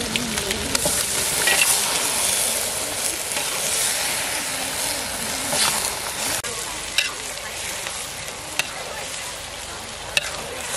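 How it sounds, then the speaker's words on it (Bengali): Meat dropped into fried spice masala in a pan, a loud broad sizzle with hissing steam and scattered clicks of stirring, close up and continuous without speech. "মশলাটা সুন্দরভাবে কষিয়ে নিয়েছি, এখন মাংসটা দিয়ে দেবো।"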